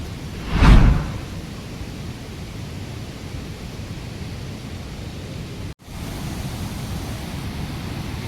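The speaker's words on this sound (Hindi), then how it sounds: "जो पानी की कलकल की आवाज़ आप लोग सुन पा रहे होंगे" A river's water rushes and gurgles in a steady, dense wash of noise close by, with a brief gusty whoosh near the start.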